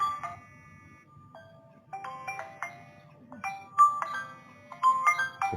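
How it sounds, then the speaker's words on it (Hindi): An electronic bell or ringtone chiming repeatedly, a series of bright tonal notes in an irregular melodic pattern, fairly close and prominent over a quiet background. "घंटी बजे जा रही है ना,"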